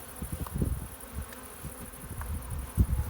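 A steady, low hum of many bees buzzing close up at a hive, with bursts as insects pass near.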